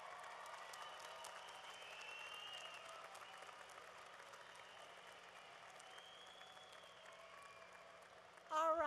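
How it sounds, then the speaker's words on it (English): Applause from a university commencement crowd, a steady, distant wash of clapping that carries evenly through the hall and ends abruptly with a louder burst. "let's give them a big round of applause."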